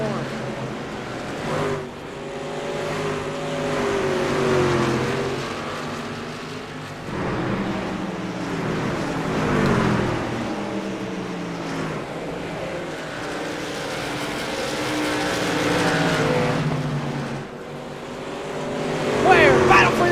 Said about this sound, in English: Battling it out side by side as they work off the turn.